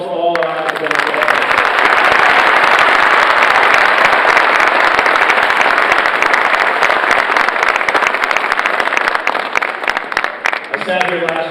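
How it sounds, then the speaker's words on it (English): A large awards-ceremony crowd applauds the academic staff with loud, sustained clapping that rises quickly and holds as a dense roar for about ten seconds. A voice comes in briefly at the start and again as the applause fades. "How about a nice round of applause for all our academic staff?"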